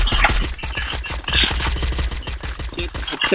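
Rapid automatic gunfire from the mobile shooter game Free Fire Max rattles in fast, loud bursts, nearly continuous with brief pauses between volleys.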